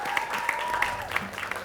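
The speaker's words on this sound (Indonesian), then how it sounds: "Kita berikan tepuk tangan kembali untuk kita semua di sini." A TV quiz show studio audience claps together in a steady, dense burst of applause, fairly close and moderately loud, with a few sharper individual claps standing out and a faint tone underneath.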